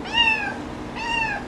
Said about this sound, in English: Derpina, stop meowing.